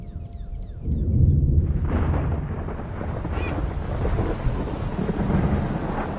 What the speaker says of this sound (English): The long wait for rain is over.